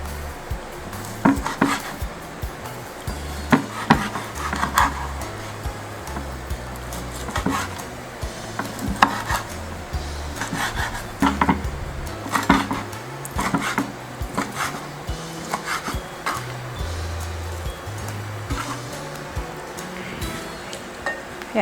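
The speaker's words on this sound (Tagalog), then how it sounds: "Tapos na natin ihawin ang ating pork belly. Hiwain na natin siya." A knife slices grilled pork belly on a board with steady, close chopping taps and clattering cuts that run continuously without pause.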